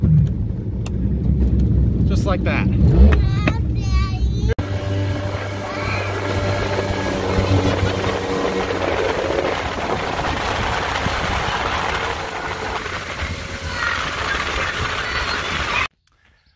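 Boat motor running on a lake, a steady engine drone that continues at even volume for most of the clip after brief talk and clatter at the start.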